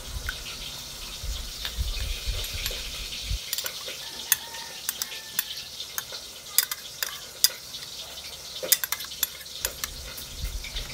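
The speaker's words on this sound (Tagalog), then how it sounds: "Halo-haloin lang po natin at iset aside muna." A seasoning mixture with pepper and oyster sauce is stirred in a bowl, with soft close scraping and clinking of a utensil in irregular strokes against a faint low background.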